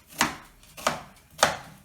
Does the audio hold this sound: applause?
no